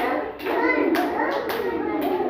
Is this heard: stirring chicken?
no